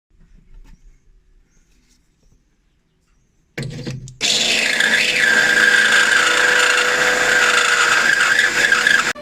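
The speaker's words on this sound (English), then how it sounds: "now we're going to have to drill this one out a bit closer this way" After a few quiet seconds, a power drill bites into metal with a loud, sustained, high-pitched whine that shifts in pitch as it cuts.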